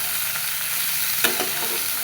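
Bottle gourd sautéing with salt and turmeric in a pan gives a steady, even sizzle, with a brief louder clatter of stirring about halfway through.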